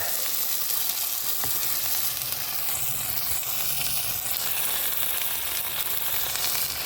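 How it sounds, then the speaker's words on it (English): Sizzling hiss of an oil filter in boiling hot oil, a constant bubbling fry with occasional pops, heard close and alone without talk. "You can hear that sizzle."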